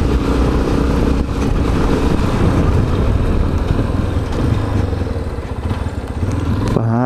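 Continuous engine drone of a Yamaha Ténéré 250 motorcycle riding uphill through a city center, steady and loud with a rough, rumbling texture throughout.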